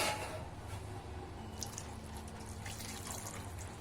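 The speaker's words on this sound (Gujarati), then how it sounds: "અને હાથ વડે આ રીતના ચોડી ચોડીને ધોઈ લેવાનું છે એટલે અંદરથી જે ડસ્ટ હશે તે નીકળી જશે" Hands squeeze and rub soil-covered food in a bowl of water, making soft close-up squishing, sloshing and dripping sounds, quiet and irregular, with no talking.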